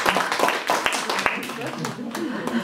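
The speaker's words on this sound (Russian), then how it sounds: "Давайте здесь похлопаем" An audience claps at a poetry reading. The applause is close and lively but brief, with sharp individual claps spread across a couple of seconds, mixed with a voice speaking over it.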